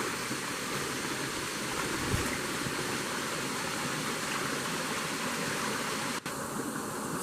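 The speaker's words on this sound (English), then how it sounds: "I want to check the river first." A small river or stream runs steadily near a forest release site for a pangolin, a constant close rushing wash of water with no pauses or voices.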